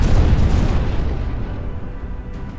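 A cannon blast in the VR pirate game Buccaneers, one loud close boom whose heavy low rumble decays over a couple of seconds, heard alone.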